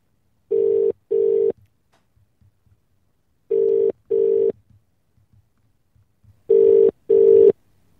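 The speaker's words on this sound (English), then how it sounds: "Somebody pick up. This is the fifth call of the day." Phone ringback tone while waiting for someone to answer a call, three pairs of double rings with steady pulses separated by silent gaps, clear and close with no talk.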